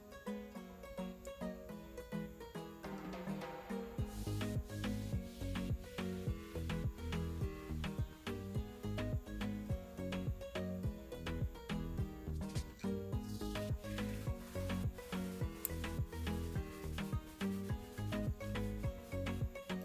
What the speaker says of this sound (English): and you're gonna stir once again.